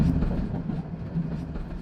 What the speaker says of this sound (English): We got steam going past the window.